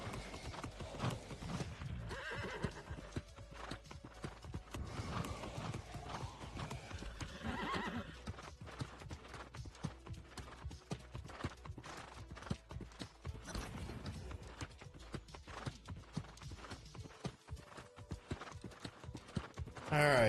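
Horse hooves clip-clop in a steady rhythm, with neighing and whinnying mixed in, fairly loud and continuous throughout, with some voices faintly in the background.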